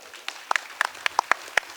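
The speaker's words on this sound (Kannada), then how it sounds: "ನೀವೆಲ್ಲರೂ ಕಲ್ತು ಒಂದು ಜೋರದ ಚಪ್ಪಾಳೆ ಕೊಡ್ರಿ." Scattered hand claps at an Uttar Karnataka folk show, a handful of separate sharp claps arriving irregularly rather than full applause, fairly close and clear against a quiet background.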